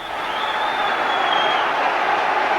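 A capacity football crowd at Celtic Park for a Celtic v Rangers Scottish Premier League match, a steady dense roar of voices and noise with a rising whistle-like tone, loud and continuous without pause.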